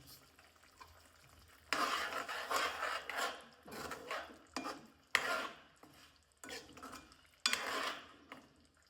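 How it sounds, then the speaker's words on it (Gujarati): Raw green tomato sabzi with jaggery being stirred in a pan, a spoon scraping and rasping against the metal in repeated bursts of rubbing strokes, close and fairly loud, with short pauses between rounds. "હવે આપણે સારી રીતે મિક્સ કરી દઈશું"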